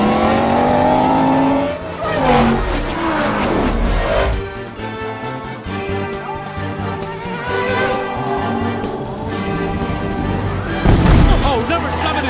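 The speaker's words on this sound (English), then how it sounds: "The racers are now making their way around the hairpin and headed downhill toward the casino bridge." Race cars roar around a hairpin and head downhill toward a casino bridge, engines revving and shifting loudly, with a sharp burst near the end beneath continuous commentator-style talk.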